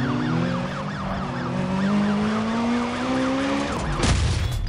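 Wailing police car sirens in the video game Need for Speed Undercover cycle steadily over a droning car engine, with a rising engine note that drops off sharply near the end.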